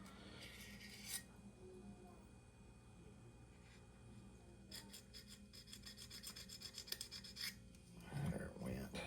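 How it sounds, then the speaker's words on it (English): A knife scrapes glue from the inside of an arrow nock in a quiet room, making faint, dry rasping strokes in short repeated runs, with a few louder scuffs near the end. "all you gotta do is take your knife, just scrape it off on the inside"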